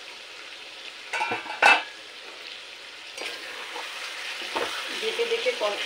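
Spiced chicken being sautéed kosha-style in a pan crackles softly and steadily, with a sharp utensil clink near the start and gentle stirring scrapes.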